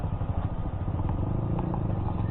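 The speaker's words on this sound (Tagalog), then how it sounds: "medyo rough road na dito, pero kayang-kaya naman ng motor" Motorcycle riding over a rough, rocky road, a constant loud engine rumble with rattling clatter from the bumpy surface, steady throughout with no talking.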